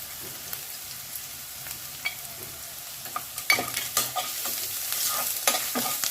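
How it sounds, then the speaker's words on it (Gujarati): Chopped onion sautéing with spices in a pan over a low flame, a soft continuous sizzle punctuated by repeated scraping strokes from stirring that grow busier toward the end, with no voices. "ડુંગળીની હારોહાર સાતરી જશે બધો મસાલો."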